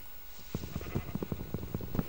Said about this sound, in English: Sheep. Oh yeah, I need to kill these so I can actually sleep at night.